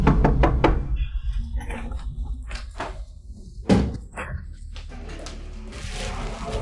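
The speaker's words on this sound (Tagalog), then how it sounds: "Ang tagal mong kumatok, walang sumasagot." Someone knocks on a door, a quick series of sharp raps at the start, then scattered thuds and one louder bang midway against a low background hum, with no voices.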